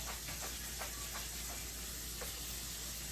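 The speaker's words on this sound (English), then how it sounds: "So I'm just going to give these beans a nice rinse." Water runs steadily over beans being rinsed in a kitchen sink, a constant close hiss with a few faint clinks and taps scattered through it.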